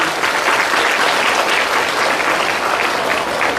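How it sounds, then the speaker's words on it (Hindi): Audience applause at a party workers' convention in Bankipur, welcoming the party's state president: dense, loud clapping from a large crowd, continuous and even throughout with no talk over it. "उनके लिए भी जरा ताली बजा के उनका स्वागत करिए"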